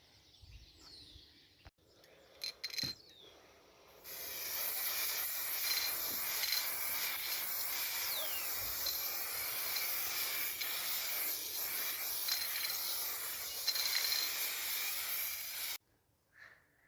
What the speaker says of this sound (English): And now we are going to seal it with sealer